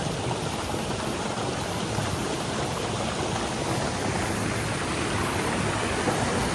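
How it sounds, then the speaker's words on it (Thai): Steady rushing water, loud and close, flowing continuously over rocks with no pauses for the whole stretch. "น้ำไหลจะใกล้หินว่ะ"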